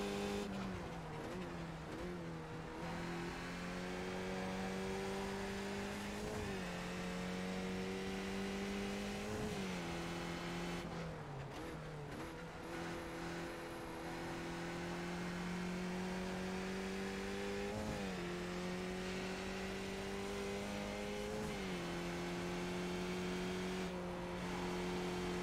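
Race car engine from a Skip Barber car lapping Watkins Glen in a racing video game, a steady loud drone that climbs through the revs and drops sharply at each gear change, continuous and close with no talk.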